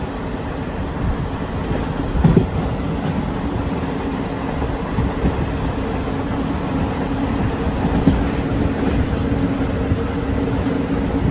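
Kacheguda-Mysuru Superfast Express running on rails, a steady low rumble of wheels and carriages with faint rhythmic clacks and occasional knocks, continuous and fairly loud throughout with no talking.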